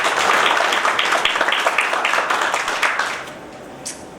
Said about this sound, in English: Can you just give them a round of applause